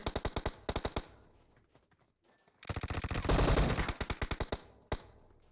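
Gunfire in the mobile battle royale game PUBG Mobile: sharp, rhythmic bursts of automatic rifle shots, loud and close, broken by a near-silent gap, then a heavy sustained volley and a final single shot.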